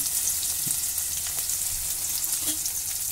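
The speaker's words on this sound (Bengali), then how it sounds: "পেঁয়াজ কুচোটা আমি নাড়াচাড়া করে হালকা করে ভেজে নিলাম" Chopped onions fry in hot oil seasoned with five-spice for a raw tomato jhal, giving a steady, fairly soft sizzle with a few faint scraping stirs.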